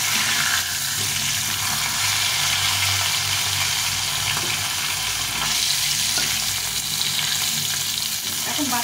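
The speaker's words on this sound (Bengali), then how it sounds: "এখন বাকি মাছগুলো ভেজে নিতে হবে।" Live fish sizzling steadily in a hot frying pan during home cooking, a dense, continuous crackle and hiss of oil heard up close with no talking.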